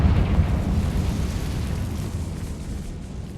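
Confringo fire spell blast in Hogwarts Legacy: a loud, sustained roaring burst of fiery noise that fades slowly over a few seconds, with no voices.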